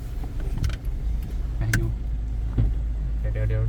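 A 2021 Ford Ranger 2.2 4x4 manual pickup's engine drones low and steady while driving, a continuous rumble with cabin noise and brief clicks, and people talk over it at times.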